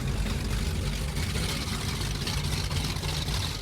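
Formula 353 Fast Tech powerboat with Mercury Racing 525 engines idling, a steady deep low rumble with a broad wash of water and wind noise, continuous and fairly loud throughout.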